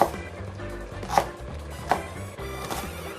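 A knife roughly chopping ginger on a board, with about four distinct sharp thuds at an uneven pace, close up and with no talking.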